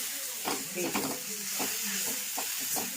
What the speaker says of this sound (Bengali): এটা এখন ভাজা হচ্ছে, একটু যতক্ষণ না গাজরের কাঁচা স্মেলটা চলে যাচ্ছে ততক্ষণ এইটা ভাজবো